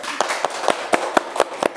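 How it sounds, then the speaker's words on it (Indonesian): Clapping for a high-achieving student at SMAN 2 Kuningan: sharp, close claps in a steady rhythm of about four per second, with only a few hands heard and no voices. "Tepuk tangannya dong."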